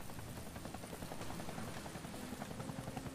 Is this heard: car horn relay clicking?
no